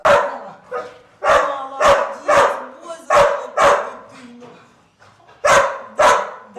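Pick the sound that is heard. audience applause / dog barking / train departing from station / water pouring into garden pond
dog barking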